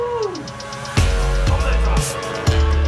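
A bread knife slices open the plastic packaging of rock wool insulation in a series of sharp rustling cuts about every half second, loud and close, with crinkling plastic between the strokes.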